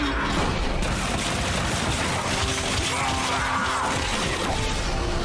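Heavy impacts and crashing blows fill the Marvel Rivals match as enemies get smashed into the floor, a continuous loud barrage of thuds and shattering clatter with no clear pauses.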